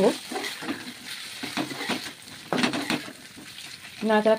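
Biryani is stirred in a pot with ghee, meat and biryani masala, giving soft scraping and sizzling in uneven bursts, loudest near the end, with brief talk in between.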